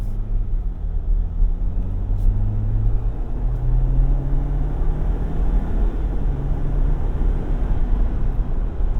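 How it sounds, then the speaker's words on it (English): 2024 Jeep Wrangler Rubicon X with a 2.0-liter turbo engine, heard from the cabin as a low droning rumble with rising induction and turbo whine as it accelerates, steady and moderately loud. "it's got so much induction noise, turbo noise."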